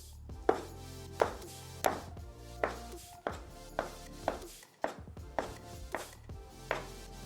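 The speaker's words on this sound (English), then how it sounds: "And now I'm going to cut off the gnocchi." A knife cuts a rolled cylinder of potato gnocchi dough on a board, producing about a dozen crisp, evenly spaced taps close up with nothing else heard.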